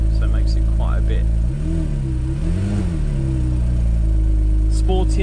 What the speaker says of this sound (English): Sounds really great actually all the time with that exhaust open.